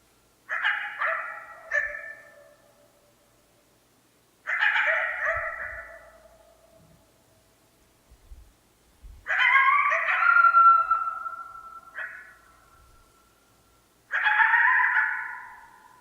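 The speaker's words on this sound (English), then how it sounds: "I got to know these coyotes, a pair, over the course of the summer." A pair of coyotes howl in a field recording, four long wavering bursts of yips and howls rising and falling with quiet gaps between, fairly near and clear against a silent background.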